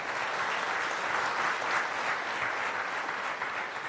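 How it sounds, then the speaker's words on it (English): A conference audience applauds, a dense steady clapping that fills the room without pause for a few seconds, no voices rising above it. "So please, could you applaud for my wife?"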